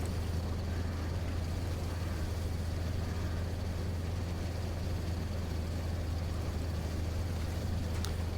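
A fairly quiet truck engine idles in SnowRunner with a steady low hum under a faint, even wash of broadband noise. Nothing changes across the eight seconds.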